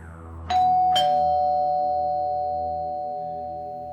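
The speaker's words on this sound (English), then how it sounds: "rings the doorbell" A two-tone doorbell chime rings out, ding then dong, each note clear and ringing before slowly fading away in a quiet room.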